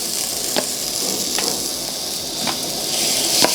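Cinnamon and raw white rice lightly sautéed in a pan for Tamil sweet pongal, giving a steady soft sizzle with a few faint spoon taps or stirring clicks, close and alone.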